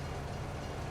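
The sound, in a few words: European train passing in video game Farming Simulator 22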